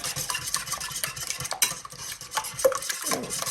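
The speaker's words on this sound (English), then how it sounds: "Mix the egg properly. Let the black pepper circulate everywhere." Eggs with black pepper being whisked in a bowl, giving quick scraping, clinking strokes of a utensil against the bowl in an irregular rhythm, close and fairly loud.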